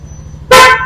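A Yamaha NMAX scooter horn gives one short, loud, bright honk that starts abruptly and holds for under half a second, over a faint low idle hum.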